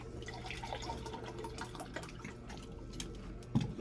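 Water is poured to fill a container, giving a soft, close, continuous trickle with small drips and a brief clunk near the end, alone and fairly quiet.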